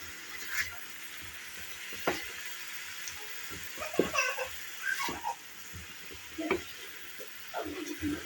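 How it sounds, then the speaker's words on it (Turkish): A zucchini filling with tomato paste sautés in a pan, a soft sizzle broken by scattered stirring scrapes and clinks, close and moderately quiet, with no talk. "Şimdi bütün malzemelerimi kavrulması için bırakacağım."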